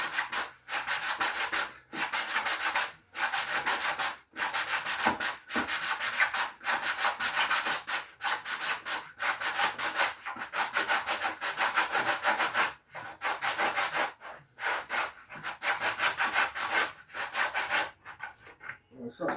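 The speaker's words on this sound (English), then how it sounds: "So I'm going to do it by giving it a good sand." Rough rhythmic rubbing of hand sanding on a new plastic bucket to scuff off its surface film, close and steady, with repeated strokes broken by short pauses and no talking.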